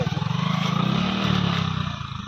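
A motorcycle rumbles along a bad, slippery road, its engine a steady throbbing drone with a pulsing rhythm and light rattle, close by.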